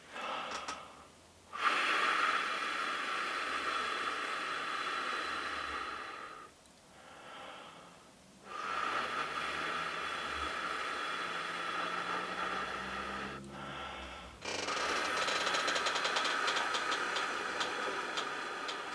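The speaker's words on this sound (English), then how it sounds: "So the first step is blow like the wind." A brass player blows a focused airstream for trumpet practice: several long, close, breathy rushes of air separated by short pauses, with no talking.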